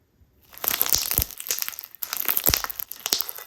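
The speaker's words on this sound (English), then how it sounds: "And the crunch of the lava rocks is so satisfying." Lava rock pieces in a smoky slime crunch and crackle when squeezed, two close, crisp bursts of gritty crushing separated by a brief pause.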